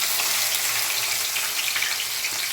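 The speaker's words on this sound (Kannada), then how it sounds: "ಈಗ ಅದನ್ನು ಡೀಪ್ ಫ್ರೈ ಮಾಡೋಣ." Onions deep frying in a pan of oil for chicken biryani make a bright, constant, close-up sizzle with a fine crackle, heard alone without speech.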